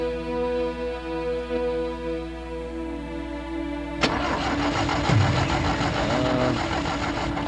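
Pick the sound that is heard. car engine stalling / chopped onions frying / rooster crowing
car engine stalling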